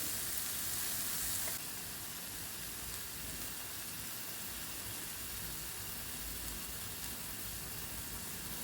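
A jackfruit mixture cooks in a pan with soy sauce added, producing a dense, continuous hissing sizzle that is a little louder at first and then holds level.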